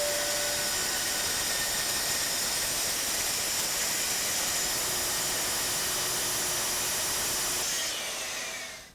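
A Festool TS 55 track saw trims the factory edge off Baltic birch plywood, making a loud, steady, hissing whine that runs unbroken for about eight seconds and then stops abruptly.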